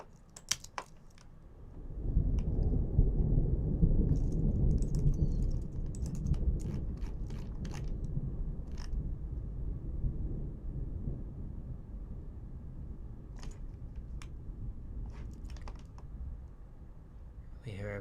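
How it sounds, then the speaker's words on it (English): Low, sustained thunder rumble layered into a music composition, swelling in near 2 seconds and rolling on steadily to the end, with scattered faint clicks on top. "maybe you've got another layer here of thunder"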